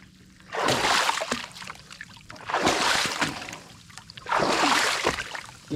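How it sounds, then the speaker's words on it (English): The bottom of a boat is scrubbed in the water on Georgian Bay, three loud sloshing, splashing strokes in a slow rhythm, close, with quiet pauses between. "been scrubbing the bottom of the boat."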